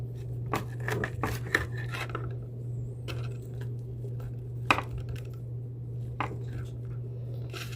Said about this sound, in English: So let me cut one open for you.